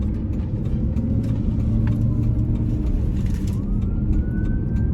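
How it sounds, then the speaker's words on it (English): An emergency vehicle passes on a street, its siren rising as a faint wail over steady low traffic and engine rumble; no talking is heard. "Here comes another emergency vehicle right now."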